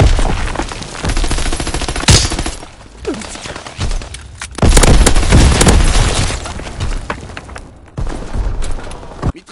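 Rapid bursts of aerial machine-gun fire in an online war video game, loud dense volleys with booms and explosions layered in, pausing briefly between strafing runs.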